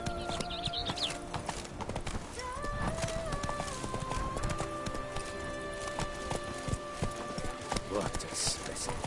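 A horse galloping in The Witcher III: Blood and Wine, with a loud steady run of hoofbeats, game music and effects layered over it, and a voice speaking in places.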